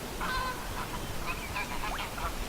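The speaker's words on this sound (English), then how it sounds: "Oh, the geese are leaving." Geese by a river honk intermittently at a distance, several harsh calls scattered over a steady background hiss.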